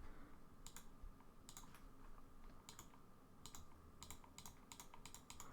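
Computer keyboard typing in short clustered bursts of clicking keystrokes, including presses of backspace, fairly close over a steady background hum, with no talking.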